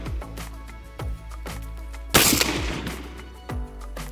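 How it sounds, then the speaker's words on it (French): A military firearm fires a single loud, sharp shot partway through, with a brief ringing tail, set against a steady low hum and a few repeated thumping clicks before and after. "OK, là, tu te prépares pour tirer."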